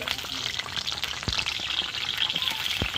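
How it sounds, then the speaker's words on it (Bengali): Pointed gourd pieces fry in hot oil, a constant bright crackling sizzle with a few sharp pops and spatters, close and fairly loud throughout. "তেল দিয়ে দিচ্ছি গরম হয়ে গেছে আমি পটলগুলো ভেজে নেব"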